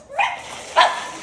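Two quick barks from dogs in a kitchen, about half a second apart, fairly close and clear against a quiet background.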